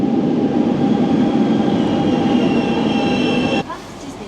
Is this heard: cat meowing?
no